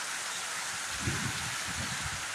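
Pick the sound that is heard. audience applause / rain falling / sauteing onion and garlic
rain falling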